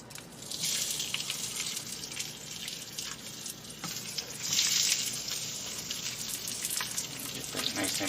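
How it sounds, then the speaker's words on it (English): Sesame-crusted ahi tuna sears sesame side down in a hot pan, giving a steady, fairly loud sizzle that holds for the whole stretch with slight swells in intensity. "we're going to sear this with the sesame side down"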